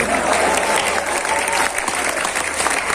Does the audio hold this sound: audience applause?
yes